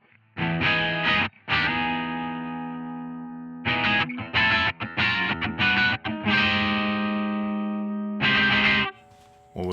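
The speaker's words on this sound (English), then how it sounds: "I quite like the twin tracker." An electric guitar played through a twin tracker doubling effect on a Two Notes Genome, distorted chords and notes in short bursts with gaps between phrases, wide and layered with no voices.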